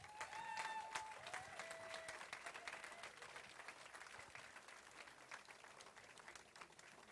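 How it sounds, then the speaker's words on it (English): An audience in the hall of a Texas auctioneer contest final gives sustained applause for the contest judges, a dense, steady wash of clapping that holds throughout and fades only slightly toward the end. "How about a huge round of applause for our judges?"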